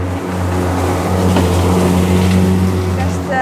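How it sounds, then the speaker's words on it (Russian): A very noisy grass-mowing machine drives past outdoors, its loud steady engine drone and harmonic hum rising and falling as it passes close by, with no voice over it. "там какая-то очень шумная машина едет"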